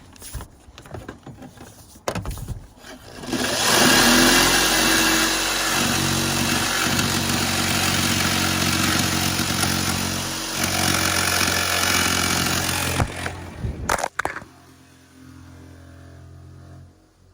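A power tool cuts a hole in the metal roof of a Ram Promaster van for a MaxxAir fan. A loud, continuous, harsh cutting roar lasts about ten seconds, with quieter handling noises before and after.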